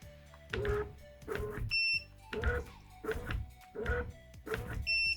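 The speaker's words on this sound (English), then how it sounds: "The motor should jolt twice and beep once." An Acmeda battery-powered blind motor jolts in a series of repeated low mechanical bursts, with short high beeps sounding between them, close and clear with no talk.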